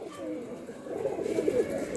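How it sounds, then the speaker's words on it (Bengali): An Andhra pigeon, a pair sitting on eggs, coos softly in a low rolling burst that swells toward the middle, faint and nearby with no one talking. "পায়রা একদম অরিজিনাল আন্ধ্রা পায়রা"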